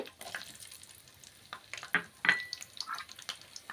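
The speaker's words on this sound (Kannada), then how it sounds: "ಹಸಿರು ಮೆಣಸಿನ್ಕಾಯಿ ಸ್ವಲ್ಪ ಫ್ರೈ ಆಗಲಿ" Four green chillies dropped into about 100 grams of hot oil for an egg curry give soft, close crackles and sizzling pops that come in small bursts over a quiet background.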